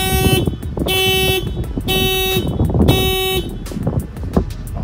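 A 2024 Nissan Almera VL sounds its horn in a run of four short, evenly spaced honks, each about half a second long, loud and close, with traffic rumble underneath.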